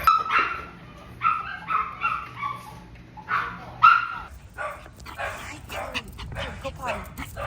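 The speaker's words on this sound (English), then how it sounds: "They're gonna bark up a storm." Several dogs at home bark excitedly in rapid bursts, mixed with yips and whimpers, fairly close and loud, continuing through the whole stretch with a person's voice mingling in.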